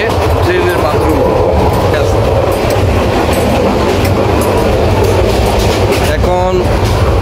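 A moving train running between Chittagong and Sylhet gives a steady, loud rumble with rhythmic wheel clatter and a brief squeal near the end, heard close up from inside the carriage.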